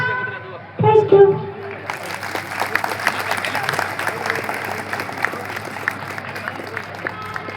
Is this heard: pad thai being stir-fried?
no